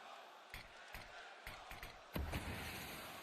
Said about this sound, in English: As the crowd in Budapest are chanting to send you home.